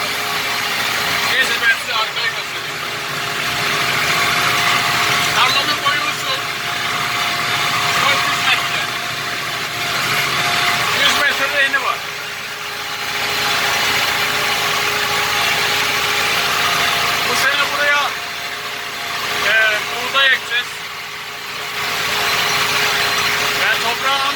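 A Massey Ferguson 398 tractor hitched to a 24-disc harrow idles steadily and close by, a low continuous rumble with a faint rattle, while someone talks over it throughout.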